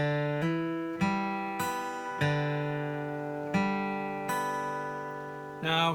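A fingerpicked acoustic guitar phrase of a few sustained chords and plucked notes, each left to ring and fade, played close and alone with no voice.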